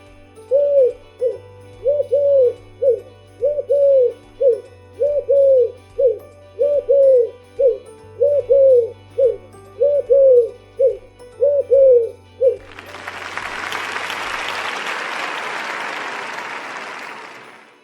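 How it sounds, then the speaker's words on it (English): An owl hoots clearly about a dozen times in a steady, evenly spaced rhythm, followed by a burst of applause and cheering that fades out. "What sound does a owl make?"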